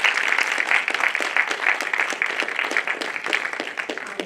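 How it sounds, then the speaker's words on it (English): An audience at a Digital Hollywood panel event claps for the panelists, a lively burst of many hands with distinct individual claps, steady and then gradually thinning toward the end. "Can you guys all give them an applause?"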